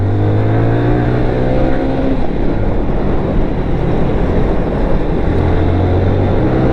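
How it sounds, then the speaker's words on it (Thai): A car accelerates hard before an engine oil change, its engine loud and close with rising harmonic tones sweeping upward through the gears under a continuous roar, with no talking. "ก็ถือว่าเร่งดีอยู่นะครับ"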